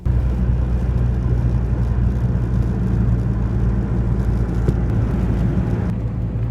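A car from Andy's Garage, fitted with a replacement ECU that has not been reprogrammed, drives along the road. Steady low road rumble and engine drone continue throughout with no talking.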